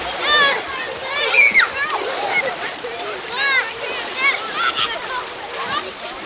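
Children splashing water with karate kicks during a fitness warm-up, bright splatters and sloshes under excited kids' voices and shouting.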